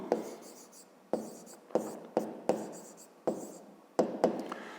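Pen writing on paper while working a fifth-grade math exercise, scratchy strokes in short bursts separated by brief pauses, close and fairly quiet, with no talking.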